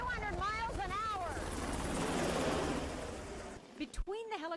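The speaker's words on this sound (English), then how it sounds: "To get to where they need to get in a hurry, Navy search and rescue swimmers rely on these MH-60s." A Navy MH-60 search and rescue helicopter drones loudly with a dense, steady rotor and engine roar, while a voice talks over it throughout.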